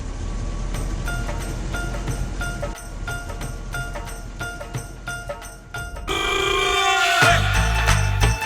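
A telephone bell rings repeatedly in short regular bursts, fairly close, then gives way to a louder, busier stretch of sound near the end.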